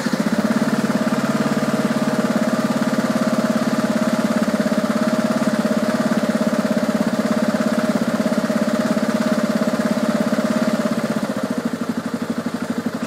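A freshly completed engine, still fairly cold, runs steadily at raised revs with an even, humming drone, then drops lower near the end as it settles into idle, heard close with no talk.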